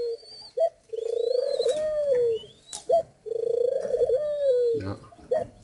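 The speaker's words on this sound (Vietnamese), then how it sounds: "Đây là đôi bồ câu Pháp mẹ trắng tinh." White French pigeons cooing near a nest where a mother pigeon feeds her chicks, long repeated throaty coos in close succession with brief pauses and faint background chirps.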